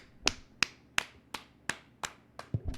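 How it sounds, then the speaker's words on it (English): Eight sharp, evenly spaced hand claps ring out in a steady rhythm, close and crisp, with nothing else around them. "I gotta clap it up."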